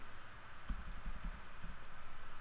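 Fingers tap on a computer keyboard in short, quiet bursts of clicks, with a soft steady background hum and no voices.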